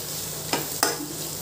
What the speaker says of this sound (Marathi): हे मसाले चांगले मस्त परतून घ्यायचे आहे तेलात आधी.